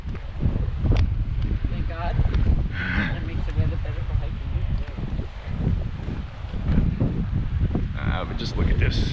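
Steady wind gusting across a limestone coastal cliff near a lighthouse at Cabo Rojo, a loud continuous rushing buffet on the microphone, with a person talking over it.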